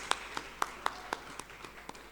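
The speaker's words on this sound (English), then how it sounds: "Please let's give her a round of applause." Audience members at a conference on digital technology and poverty reduction clap for a speaker, producing a sparse, evenly spaced run of crisp claps that sound thin and slightly distant.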